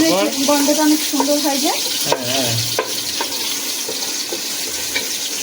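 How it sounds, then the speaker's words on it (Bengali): Garlic fries in a pan with a steady hiss and sizzle, and a few utensil clicks come through while a person talks at the start. "রসুনটা আগে সুন্দর করে দিয়ে লাল করে ভাজবো"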